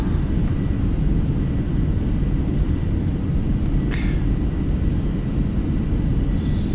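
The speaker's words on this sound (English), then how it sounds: "Crosswind, reversers deployed." Airbus A320 thrust reversers roar on a crosswind landing in Microsoft Flight Simulator, a loud, dense, steady low rumble that fills the whole stretch, with a brief faint higher tone near the middle.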